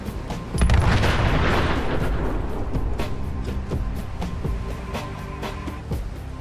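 A heavy car explosion in a Fallout video game booms and fades into a rolling rumble, followed by a string of sharp, evenly spaced cracks and thuds.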